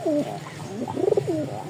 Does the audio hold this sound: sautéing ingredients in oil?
no